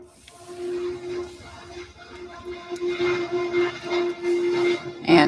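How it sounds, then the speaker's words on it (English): A train passing nearby gives a steady rumbling hiss with a sustained whistle-like tone, growing louder toward the end, with no talking over it. "And please excuse the train going through."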